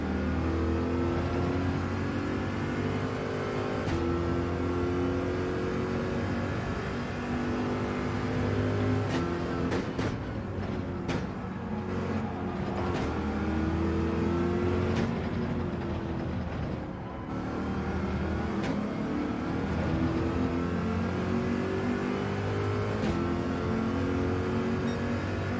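Racing engines in Gran Turismo 7 daily races with Subarus in the field, a loud sustained roar with shifting pitch as cars rev, accelerate and change gear, a brief dip near the middle.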